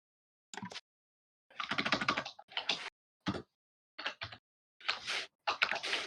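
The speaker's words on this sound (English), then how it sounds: "Is your keyboard made of wood? Why is it so loud?" Loud computer keyboard typing in bursts of rapid clacking keystrokes separated by short pauses, close and prominent with no talking.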